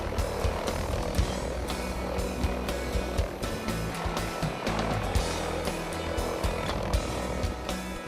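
A helicopter flies in Alaska, its rotor producing a steady rhythmic chopping beat with loud engine whine, continuous and close throughout.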